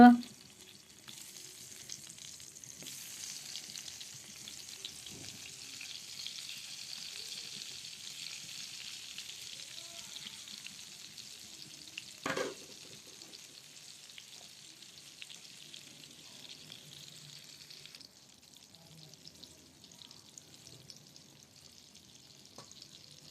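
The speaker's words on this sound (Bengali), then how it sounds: "এখন বেগুন ভাজি করব" Brinjal (eggplant) slices fry in oil in a pan, a soft, steady sizzle running throughout, broken once near the middle by a short stirring clatter, with no voices.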